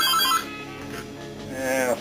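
A mobile phone rings with a bright electronic tone, loud and near, in two bursts at the start and end with a quieter stretch between.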